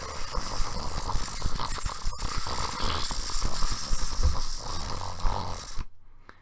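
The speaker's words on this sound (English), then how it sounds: "And Larry has the sound of a lobster riding a skateboard." Sound effect of a lobster riding a skateboard over concrete: a continuous gritty rolling rumble with scratchy clicks and scrapes, fairly loud and steady for several seconds before cutting off abruptly, no talk.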